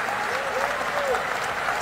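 Applause from an audience at a State of the Nation Address, a continuous wash of clapping with voices faintly audible underneath.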